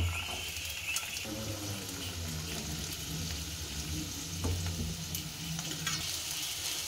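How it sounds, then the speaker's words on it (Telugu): Pepper, coriander and ginger fry in a pan, giving a steady, moderate sizzle that runs without pause, with a few faint clinks and stirring scrapes near the pan. "ఒక 2 నిమిషాల వరకు కలర్ వచ్చేంత వరకు వేయించుకుందామండి."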